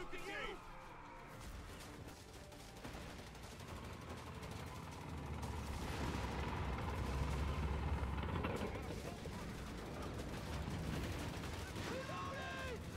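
Machine gun bursts and other gunfire sound in a Company of Heroes 3 battle, with loud sustained rattling mid-clip and someone talking over the game action.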